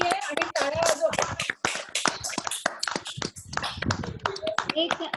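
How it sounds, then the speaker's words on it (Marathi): Online participants unmuting to clap for a Guru Purnima felicitation, scattered overlapping hand claps from several people over a video call, mixed with voices chatting. "मी म्हणते सगळ्यांनी अनम्यूट करायला हरकत नाहीये आणि टाळ्या वाजवा."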